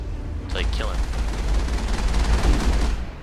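Rapid gunfire from a gun in the video game Mass Effect, fired in sustained bursts against a low rumbling background, with a short pause before the shooting starts.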